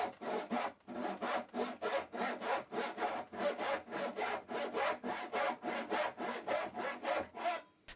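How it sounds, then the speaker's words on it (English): A hand saw cuts steadily through wood for a picture-frame miter corner, with about twenty even back-and-forth strokes, close and clear with no talking. "First of all, I establish the cut using the chisel mark."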